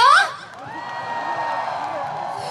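Outdoor crowd at an autumn apple festival stage show lets out a loud whoop and shout that quickly fades into a sustained, steady cheering roar from the audience.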